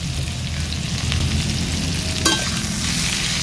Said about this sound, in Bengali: সব কিছু আবারও নেড়ে চেড়ে নিচ্ছি।